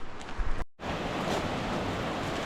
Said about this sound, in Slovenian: Prišla sva do reke Miljacke.